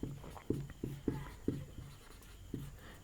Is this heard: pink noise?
no